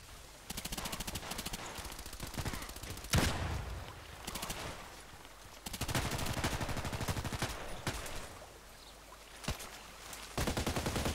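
Rapid automatic gunfire in the online shooter Contract Wars, loud, sharp bursts and rattling volleys separated by short pauses, with a heavy blast near the three-second mark and no talking.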